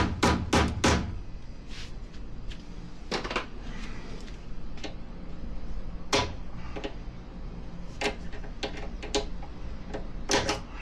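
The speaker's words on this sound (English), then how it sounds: "hammer it out a little bit, maybe." Sharp metallic hammer knocks on a tack strip of a 1969 Corvette convertible top, in clusters of two or three, irregularly spaced, with a steady low hum underneath and no talking.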